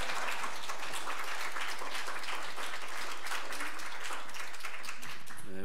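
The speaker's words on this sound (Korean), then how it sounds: "우리 큰 박수로 맞아주시면 감사하겠습니다" Steady applause from a church congregation, a dense wash of clapping that keeps going for several seconds, with a voice faintly beneath it.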